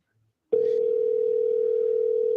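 A telephone call tone comes in abruptly after a brief quiet moment and then holds as a steady, loud single-pitched tone, with a faint burst of noise near its start.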